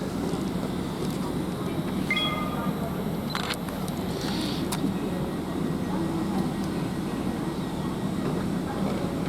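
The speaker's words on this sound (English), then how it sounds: "Okay, here goes another Exeter train." Great Western Railway Class 800 train passing on the line from Reading toward Exeter, a steady loud rumbling roar with rail noise throughout and a few brief higher squeals.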